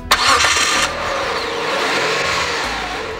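Hyundai Sonata with a 2.5-litre 24-valve twin-cam V6 starting up, a loud cranking burst that catches and settles into a smooth, steady idle with a slight rise in revs.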